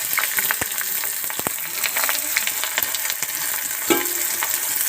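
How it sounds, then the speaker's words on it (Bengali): Chopped onion with bay leaf frying in hot oil in a kadai for Bengali chicken kosha, a steady close sizzle broken by several sharp scraping stirs of the spoon, with no voices. "পেঁয়াজ কুচানো দিয়ে দেবো।"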